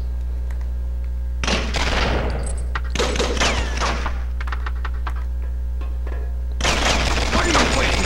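Bursts of gunfire in the video game Special Forces Nemesis Strike, loud broadband volleys in three clusters separated by quieter stretches, over a steady low hum.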